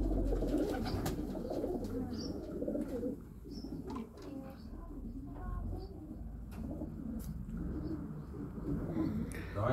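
Racing pigeons coo in a loft, a soft steady murmur of several birds running under low background noise and some faint talk throughout.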